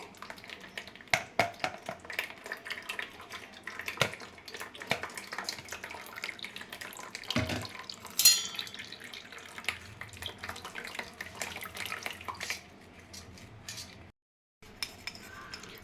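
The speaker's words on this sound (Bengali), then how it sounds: "এবার আমি ছেঁকে নিচ্ছি স্ট্রেনারের মধ্যে দিয়ে।" Wood apple (bael) sherbet being strained through a strainer, with soft splashing, trickling liquid and light clinks of a spoon or utensil against metal, close and fairly quiet, and no talking.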